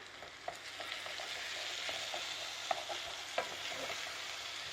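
Bacon sizzles steadily in a pan, a continuous faint hiss dotted with occasional pops and a few soft stirring scrapes, with no voices.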